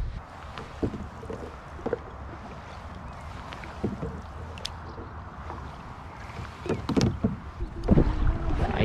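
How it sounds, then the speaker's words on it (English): Wind buffeting the microphone while a canoe is paddled on a river, a steady rushing rumble with repeated knocks and splashy paddle strokes growing louder toward the end, close and without talking. "fighting the wind."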